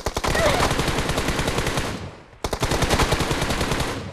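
Rapid automatic gunfire from the PUBG Mobile battle royale game, loud and continuous bursts that briefly pause near the middle before resuming, with faint speech underneath.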